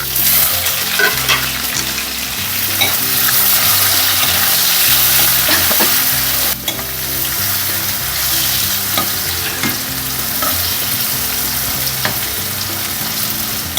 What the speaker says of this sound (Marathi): लसूण टाकते आणि कांदा टाकून सोबतच टॅमॅटो पण टाकतो